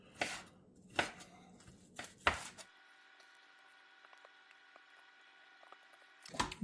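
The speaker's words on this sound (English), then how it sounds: "Let me cut this piece up here" A knife chops through rehydrated freeze-dried brisket on a board, four sharp, close cuts in the first seconds, then a faint tonal hum before one last cut at the end.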